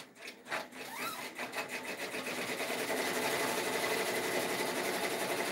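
An embroidery machine stitches a navy sport-wick athletic jacket, first with a few separate clicks and then a steady, fast mechanical whirring that holds at a constant moderate level.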